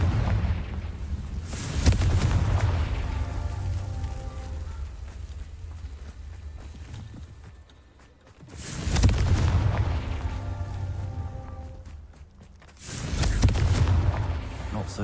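Confringo fire spells in Hogwarts Legacy erupt as three loud, booming explosions, each with a rumbling tail. The blasts come a few seconds apart, with a longer gap between the first two.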